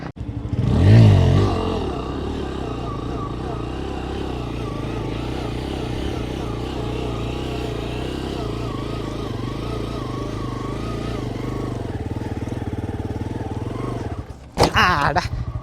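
A stunt motorcycle circling in a flatland stunt holds a steady, droning engine note for over ten seconds after an initial louder rev, then a sharp clatter near the end.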